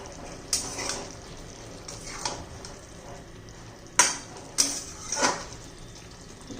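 Spoon stirring stuffed ridge gourd curry in a pan, a few scraping strokes and clinks against the metal with a faint sizzle underneath, close and fairly quiet, no talking.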